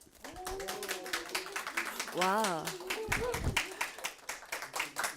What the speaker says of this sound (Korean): 박수가 끊이질 않는데요